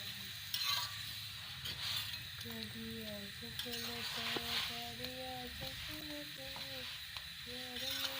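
Makki roti cooking on a hot griddle, a soft steady sizzle running throughout beneath louder melodic background music.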